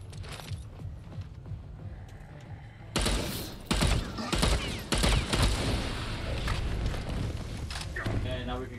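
Gunfire cracks in Dead Island 2 co-op play, first a few sparse shots, then a burst of loud rapid shots and heavier blasts from about the midpoint onward, with game effects behind them.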